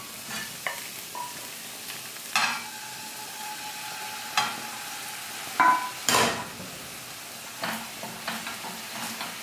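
Rigatoni pasta sizzles in a pan with garlic, chili paste and chili flakes while being stirred, giving a quiet steady fry broken by several sharp scraping and clinking stir sounds.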